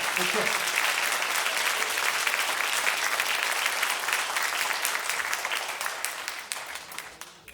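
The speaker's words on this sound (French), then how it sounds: "Je vous demande de faire un tonnerre d'applaudissements à monsieur Hervé Moinat" A concert audience at a wind band's jazz performance keeps up a thick wash of clapping, loud and sustained, with a few voices beneath it, slowly thinning toward the end.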